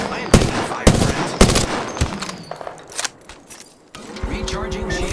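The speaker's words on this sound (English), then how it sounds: "I am taking fire, friends." Gunfire in the battle royale game Apex Legends: several sharp, loud shots in quick bursts through the first half, then rattling fire with engine-like rumble, mixed with faint in-game voice chatter.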